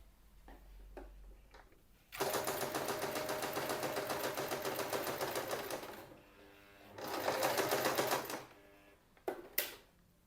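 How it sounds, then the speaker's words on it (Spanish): A domestic sewing machine stitches fabric with a steady, close, rattling whir that runs for about four seconds, stops briefly, then starts again in a second shorter burst, followed by a few clicks. "Voy a mover la rueda a la E y voy a empezar a coser."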